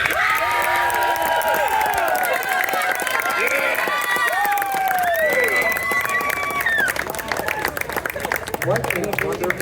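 Loud applause and cheering from a crowd at an Earth Day climate rally in Palo Alto, sustained clapping with whoops and shouts throughout.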